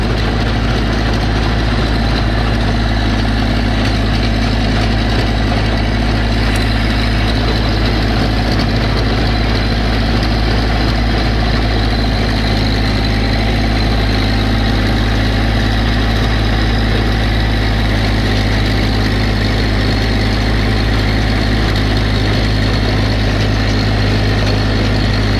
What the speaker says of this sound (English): Tiller does a heck of a job. It's a 4-foot woods tiller. Oh, Massey's about out of gas.